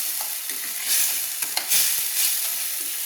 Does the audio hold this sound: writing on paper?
no